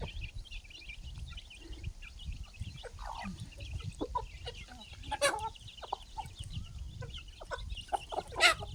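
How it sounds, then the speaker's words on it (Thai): Chickens at a rural garden home cluck steadily while being fed, a busy close flock with scattered sharp calls and a few louder squawks over low rustling background noise. "มาให้อาหารไก่ค่ะทุกคน"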